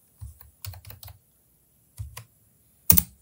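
Typing on a computer keyboard in a few short bursts of quick, close key clicks separated by pauses, ending on one louder tap.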